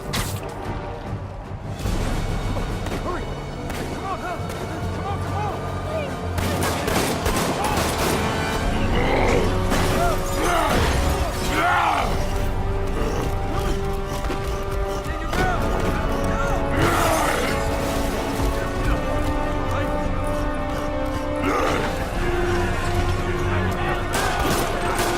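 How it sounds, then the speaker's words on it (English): Gunfire pelts a police vehicle at a barricade in Marvel's Spider-Man, bursts and impacts scattered through a dense, loud mix of music, effects and crashes over about 25 seconds. "officer vehicle is under fire"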